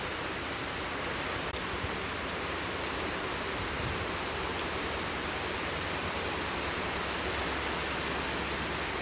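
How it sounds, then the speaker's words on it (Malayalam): Steady outdoor wind and rain, a continuous broadband hiss of falling rain and gusts holding at an even level throughout with no voices. "പക്ഷെ പെട്ടെന്ന് കാറ്റും മഴയും"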